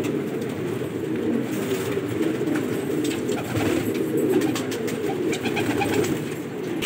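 Pigeons of the gola breed, including a guliyar and katardar birds, coo steadily in a low, continuous murmur, several birds overlapping close by with faint background noise and no talking.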